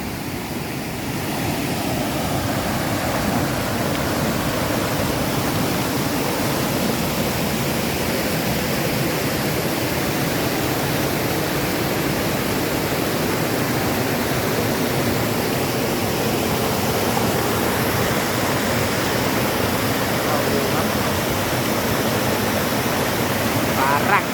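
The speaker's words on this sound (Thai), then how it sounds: "ฝนตกหนัก น้ำใหม่กำลังมาด้วย" Rushing stream water swollen by heavy rain, with fresh floodwater arriving, a steady broadband roar that stays loud and unbroken throughout.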